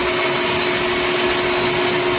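A small drill bores into a metal hub, a loud, steady motor whine with a constant pitched hum running unbroken throughout.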